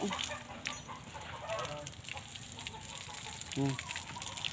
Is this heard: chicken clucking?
yes